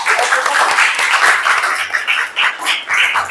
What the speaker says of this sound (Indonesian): kita beri aplaus yang